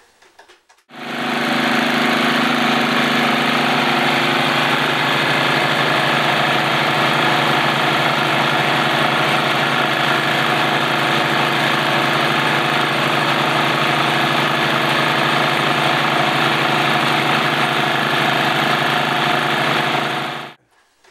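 Joseph Newman's generator motor running, a loud, steady electric whir and hum with a dense buzzing tone, starting abruptly and holding constant for about twenty seconds before cutting off, with no talk over it.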